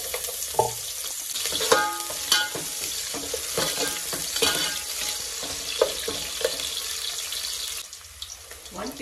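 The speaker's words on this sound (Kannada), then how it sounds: "ಆಯಿಲ್ ಬಿಸಿ ಆಗಿದೆ. ಸ್ವಲ್ಪ ಕರ್ಬೇವಿನ ಸೊಪ್ಪು ಹಾಕಿ, ಹಾಗೆ ಈರುಳ್ಳಿ ಸೇರಿಸ್ಕೊಂಡು" Curry leaves and onion dropped into hot oil for vegetable pulav, sizzling with clattering stirs and scraping in the pan, loud at first and easing toward the end, no talk.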